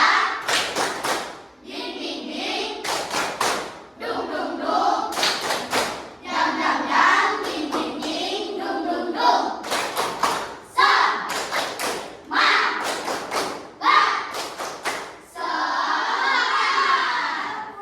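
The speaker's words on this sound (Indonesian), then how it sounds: "Kita semangat dulu. Tepuk semangat." A classroom group claps out a rhythmic spirit clap, with short bursts of loud unison hand claps in patterned beats separated by brief pauses, mixed with children's voices chanting along.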